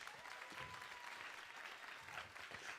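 An audience claps in dense, sustained applause at a wellness conference, an even wash of hand claps without a break.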